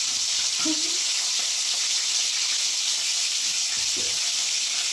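Green chillies fry in a pan with a steady bright sizzle and hiss, broken by a few soft clatters of stirring.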